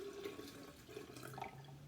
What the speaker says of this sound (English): So you're going to go to your sink and fill up your measuring cup.